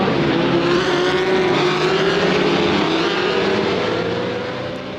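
A 1962 Lotus 21 rear-engined Formula One car racing at the Monaco Historic Grand Prix, its engine a loud, steady high-pitched drone that rises slightly in pitch, close by throughout and fading a little at the end.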